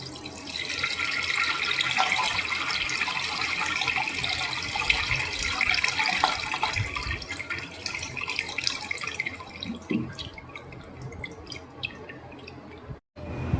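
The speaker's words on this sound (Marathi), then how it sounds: "यावर लगेच थंड पाणी घालायचं." Cold tap water runs steadily over boiled macaroni drained in a colander, a continuous close splashing stream with dripping, ending abruptly near the end.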